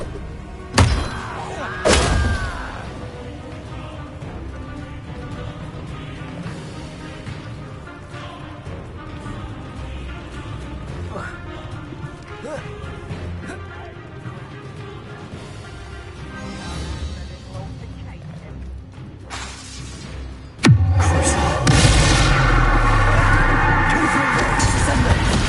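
Spells and blasting curses in Hogwarts Legacy go off as repeated thumps and bursts over a busy game soundscape. The noise rises into a loud, sustained roar near the end.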